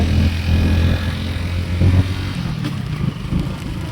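A motorbike ride from home toward a Konkan plateau in the first monsoon rain, heard as a steady low engine drone with heavy wind buffeting throughout and no talk.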